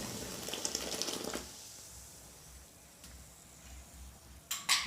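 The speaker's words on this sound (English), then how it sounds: "That's my hot water." Hot water is poured into a slow-draining sink, a close hissing splash for the first second or so that then fades to a quiet trickle, with a brief burst of water again near the end.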